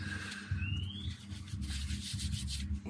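Cloth rubbing chain grease off a Honda CRF250 Rally motorbike after spraying WD-40, a close, quiet scrubbing and wiping that continues steadily for a few seconds.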